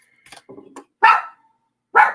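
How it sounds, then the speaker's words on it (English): A dog barks a few times nearby, with two louder, sharper barks separated by a short pause after some softer yips. "Ooh, no barking."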